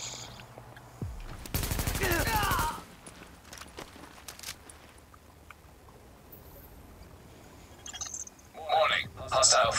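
Automatic gunfire in the video game The Division: a loud, dense burst of rapid shots lasting about a second near the start, with quieter battle noise and louder bursts toward the end.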